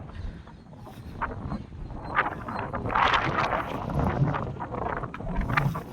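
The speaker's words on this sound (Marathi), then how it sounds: "एकदम मस्त असं वारं सुटलंय" Wind blowing across Hemkut Hill in Hampi at sunset, a continuous rough buffeting rush on the microphone that swells and gusts at moderate loudness, with no other clear sounds.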